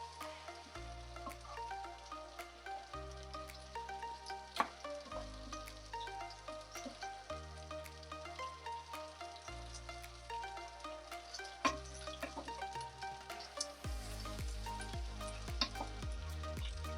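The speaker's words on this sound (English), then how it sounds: "So here's our wontons sizzling." Homemade wontons fry in hot oil, making a steady, quiet sizzle with scattered crackles and pops beneath louder background music.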